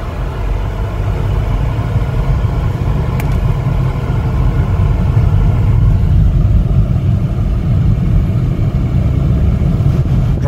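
A 2015 Chevrolet Malibu LS drives along on a test drive, with a steady low engine and road rumble heard from inside the cabin throughout and no one speaking.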